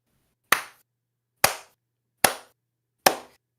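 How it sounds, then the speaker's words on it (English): Four slow, sharp hand claps, evenly spaced about a second apart, close and crisp with short decays and silence between them. "A slow clap for you, sir"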